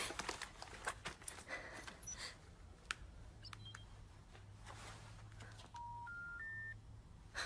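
Soft clicks and scattered taps, then a short run of rising electronic keypad tones near the end, faint over low background hiss.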